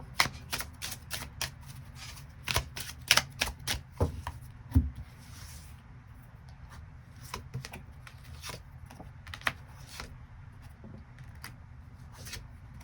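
Tarot cards being shuffled and drawn, with a run of crisp riffling flicks and slaps up close during the first five seconds, then sparser soft card taps over a quiet background; no talking.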